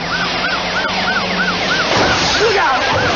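A wailing ambulance siren rises and falls repeatedly over loud, steady road and engine noise, close by and growing more insistent as it approaches an intersection on St. Joe Street.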